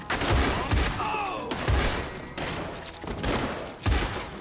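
Rapid gunfire from a Red Dead Online shootout, volleys of shots cracking close and loud one after another across the whole stretch, with a voice breaking in briefly.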